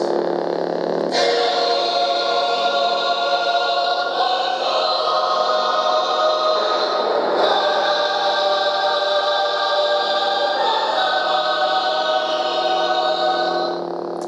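A theme plays from a lightsaber's sound board, a tinny, electronic rendition of the dramatic orchestral piece heard steadily throughout, with chord changes and no talking over it.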